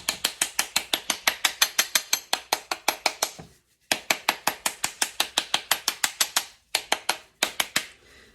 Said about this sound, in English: let's tap around that outside shell,